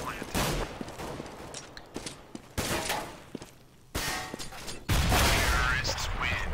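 Shotgun and other gunfire sounds from a professional Counter-Strike match on de_train. Loud, dense bursts of shots come in several clusters, mixed with other game noise.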